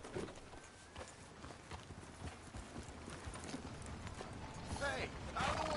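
Horse galloping in the Red Dead Redemption 2 video game, a fast steady clip-clop of hooves building slightly louder toward the end, with a voice talking over it.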